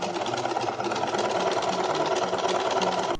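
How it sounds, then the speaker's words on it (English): A sewing machine top-stitches around the edge of a swimsuit bow for a 1950s-style Simplicity 8139 suit, a loud, steady, close mechanical hum with fast needle chatter that cuts off sharply at the end. "I top stitched around the edge of the bow to close up the opening and create a crisp edge"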